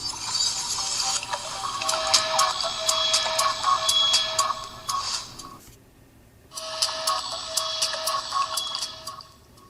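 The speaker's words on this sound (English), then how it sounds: "You just heard the little bzz, the printer goes bzz" A SMOOREZ device boots up while a printer buzzes and ticks in two sustained stretches of whirring with rapid clicks, separated by a brief pause, moderately loud and close, no talking.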